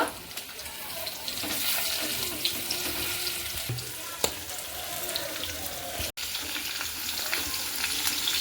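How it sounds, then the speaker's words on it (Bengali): Okra sizzling in hot oil in a pan, a constant hissing crackle close up with occasional small pops and one brief clunk. "এবার আমি ঢেঁড়সগুলো সব দিয়ে দেবো হালকা হালকা করে ভেজে নেব"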